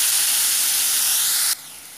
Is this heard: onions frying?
yes